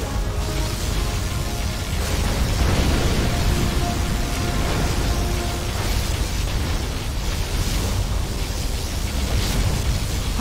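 Continuous loud, roaring blast of a USA particle cannon beam firing in Command & Conquer Generals Zero Hour, a dense noisy rumble sustained throughout with crackling bursts and faint tonal game sounds layered in.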